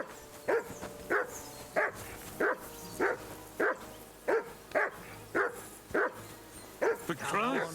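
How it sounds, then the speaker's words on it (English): Dog barking in the medieval video game Kingdom Come: Deliverance 2, about a dozen evenly spaced barks at a steady rhythm over low background ambience, ending in a whimpering yelp. "Call off that damn dog before he wolfs down the last of our mates."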